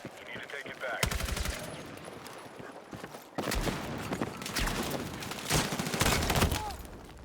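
Video game gunfire comes in dense automatic bursts and rattling volleys, loud and sustained over several seconds, with a sharp jump in intensity partway through and some faint voice in the mix.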